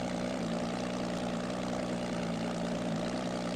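Real engine with spinning propeller on an airplane in Garry's Mod, a steady droning hum with a strong low buzzing tone, continuous and fairly close with no talk.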